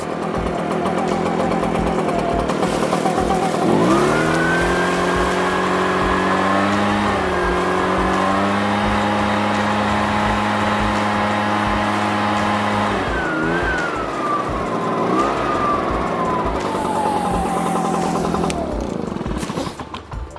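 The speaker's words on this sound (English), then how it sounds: "So as you can clearly tell, I have the gas power blower on now." An Echo 755st gas-powered leaf blower runs loud and steady during fall yard cleanup, its engine droning close by with a dip in pitch partway through.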